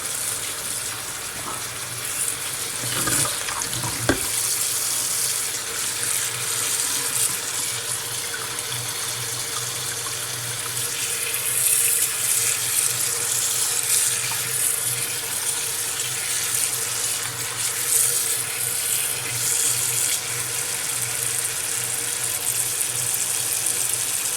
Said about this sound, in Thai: เปิดน้ำเย็นใส่เลยค่ะ